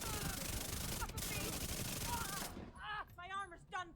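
Rapid SMG bursts in The Division 2 shooter game fire in a dense continuous stream for over two seconds, then stop, followed by players talking.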